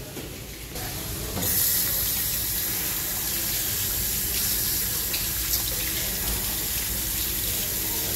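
Water running from a tap for hand washing, a steady close splashing hiss that swells after the first second and keeps flowing without pause.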